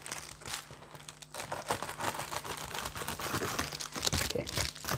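Plastic packaging on a Casio Edifice watch crinkles and tears close up, continuous rustling and crunching handled for several seconds with no talking.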